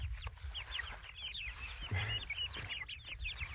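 Chicks cheep and cluck in a pen shared with ducklings, a busy chorus of quick, close peeps over low background rustle.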